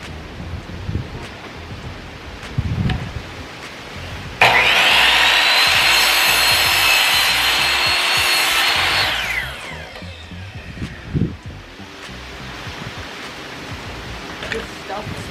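A power saw cuts through building material during tiny home construction, a loud, close, continuous whining grind lasting about five seconds, framed by quieter handling knocks and shuffling before and after.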